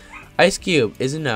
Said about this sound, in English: excuse the dog barking in the background